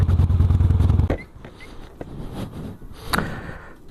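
A Harley-Davidson Dyna Super Glide Custom motorcycle rumbles with a deep, loping idle for about a second, then cuts off, followed by scattered clatter and a sharp knock nearby.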